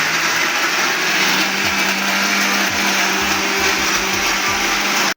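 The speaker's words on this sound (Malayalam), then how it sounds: "ഞാൻ കുക്കർ ജ്യൂസ് മിഷൻ പഴയതാന്ന് എടുത്തത് കേട്ടോ" An old mixer grinder whirring loudly and steadily while blending masala for shawaya chicken, a constant high motor drone that runs for several seconds and then cuts off abruptly at the end.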